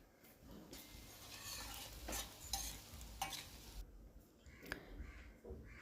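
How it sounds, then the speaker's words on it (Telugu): Pieces of paneer sizzle in hot ghee in a home kitchen pan while being stirred for a paneer masala curry, giving a steady frying hiss with occasional scraping stirs and no talking. "నెయ్యి వేడెక్కిన తర్వాత పన్నీర్ ముక్కలను వేసుకొని గోల్డెన్ కలర్లోకి"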